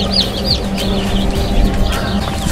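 Young Shamo chicks at a small hatching farm give repeated high, short peeps over a steady low hum, close by and fairly loud.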